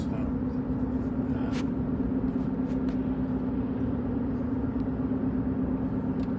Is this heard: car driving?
yes